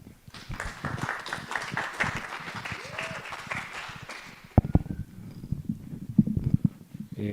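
A live audience breaks into sustained, fairly loud applause to welcome a speaker at a talk on tradition and technology, the dense clapping later thinning into scattered, sharper claps and a few louder bursts.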